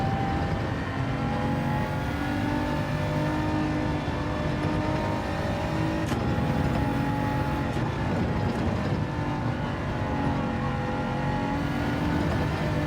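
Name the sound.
race car engine on track in video game Gran Turismo 7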